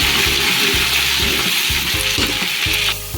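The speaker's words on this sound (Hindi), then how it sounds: "चलो अब हम इसमें डालेंगे अदरक लहसुन का पेस्ट। इसको भी डाल के हम थोड़ी देर के लिए भून लेंगे।" Ginger garlic paste fries in a pan for chicken pulao, a loud, close, continuous sizzle broken by rhythmic scraping stirs.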